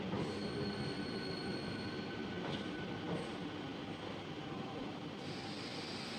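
A local train on the Howrah–Medinipur line pulls into Phuleshwar station, giving a steady, loud rolling rumble with high wheel squeal over the whole stretch and no voices.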